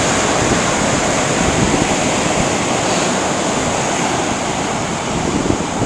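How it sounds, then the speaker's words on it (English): Ocean waves break at Santa Monica pier in a loud, continuous roar of surf with rough wind buffeting the microphone, and no voices. "but that wave looks several feet big."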